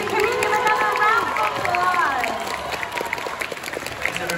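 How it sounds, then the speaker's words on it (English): An audience at a fan convention panel applauds, and the clapping and crowd noise continue under voices that are speaking over it. The applause gradually fades over a few seconds. "can we give another round of applause?"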